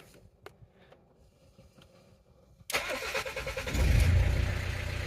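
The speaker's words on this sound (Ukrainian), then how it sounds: "Завели автомобіль" After a few quiet seconds with faint clicks, the 2.0-litre diesel engine of a BMW 3 Series (E46) 320d cranks and fires, then runs with a rising, clattering rumble that grows louder toward the end.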